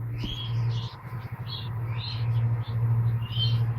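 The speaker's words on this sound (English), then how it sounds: "Lovely, lovely birds, nice big hens, all 2011 bred." Violet and blue lacewing hens, double factored violet pastel blue lacewings bred in 2011, chirp in a series of short, high tweets over a steady low hum, fairly close and moderately loud.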